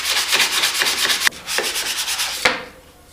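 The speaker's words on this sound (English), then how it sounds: "I'm just going to go on the inside here and give a quick sand and make sure all corners are good right here" Hand sanding along the inside edges of a wooden picture frame, a quick run of close, rhythmic rasping back-and-forth strokes with two brief pauses between passes.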